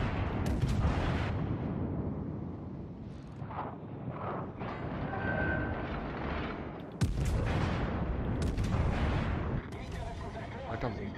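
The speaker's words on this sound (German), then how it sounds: "das schießt ernsthaft mit Brandgeschossen" Battleship guns firing incendiary shells in World of Warships, heavy booming blasts with sharp cracks near seven and nine seconds over a rumbling battle din, with someone talking over it.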